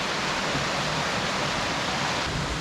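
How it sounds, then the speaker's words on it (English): Massive falls of running water roar in a broad, unbroken hiss, loud and close, with no voices or other sounds breaking through. "I hear a very massive running water, and I think I'm closer to the falls now."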